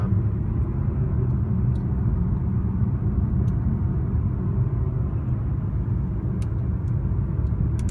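Steady low road rumble and tyre roar from cars driving along a road through a new construction neighborhood in Monroe, heard continuously from inside a moving vehicle with no talking.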